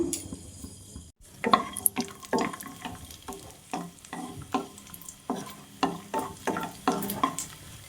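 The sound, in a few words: cashews and raisins frying in ghee in a pan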